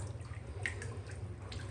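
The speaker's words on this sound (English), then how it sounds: "I think I'll use my potato masher. Now a fleece masher." A potato masher presses wool fleece down in a basin of tap water, giving soft continuous watery sloshing and faint drips close by, with no talking.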